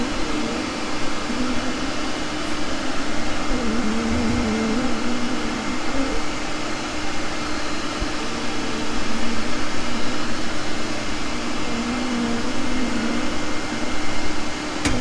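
A vacuum runs during a honey bee cutout on a second-story structure, a steady loud whooshing hum that holds for the whole stretch without pause or voices.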